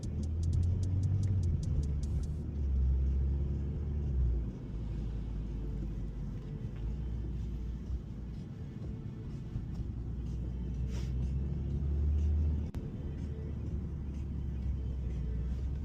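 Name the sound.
car driving through campus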